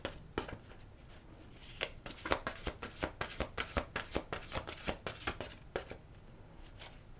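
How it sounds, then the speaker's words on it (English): Angel cards shuffled by hand in a steady run of crisp riffling flutters and soft slaps, close and fairly quiet, with brief pauses between bursts and no talking. "One more shuffle."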